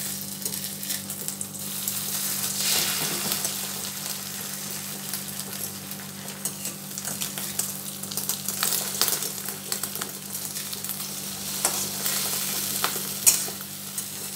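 An egg fries into a thick folded omelette in a pan over a low flame, giving a soft continuous sizzle with occasional light spatula scrapes and a steady background hum.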